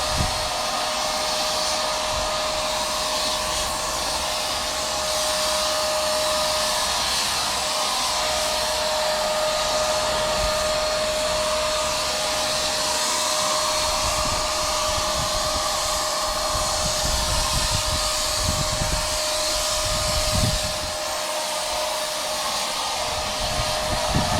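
A Wagner fence and decking sprayer spraying Demon Shine car cleaner, a steady, loud motorised whine with a constant tone and a hissing spray, running unbroken near the listener.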